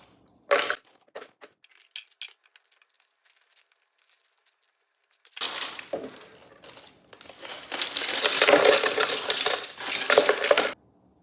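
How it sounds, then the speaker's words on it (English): Hard caramel pieces tumbling into a blender jar for salted caramel coffee creamer, a few scattered clinks at first, then a dense, loud rattling clatter that fills the latter half before stopping abruptly. "Get your blender and put your caramel pieces into your blender."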